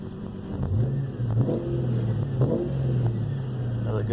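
A car engine on a freshly cleaned MAF sensor and intake blips repeatedly from idle, each quick throttle stab rising and falling in pitch, close and steady, with faint murmuring in the background.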